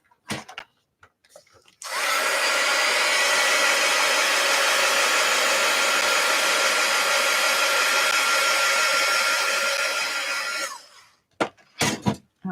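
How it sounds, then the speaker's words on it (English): A hair dryer blows steadily on wet paint on a carved stamp for about nine seconds, a loud continuous whooshing roar that starts abruptly and cuts off, with brief handling noises before and after. "And I know that's wet paint, so let's dry it."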